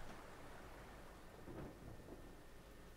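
Steady rain pours with a soft rumble of thunder rolling underneath, a continuous stormy wash with no voices; a storm in the video game Diluvian Winds.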